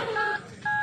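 Cellphone keypad tones, two short electronic beeps separated by a brief gap, clear and close.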